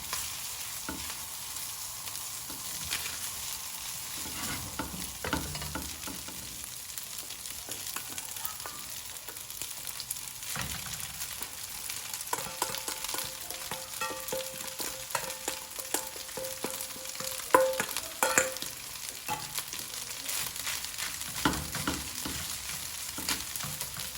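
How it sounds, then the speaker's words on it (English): Rice is stir-fried a little at a time in a small stir-fry pan for Yang Chow fried rice, with a soft continuous sizzle broken by frequent spatula scrapes and stirring clatter, no voices. "I'd like to add in the rice little at a time to make sure that I'm able to separate all of the grains of rice and be able to stir fry them evenly"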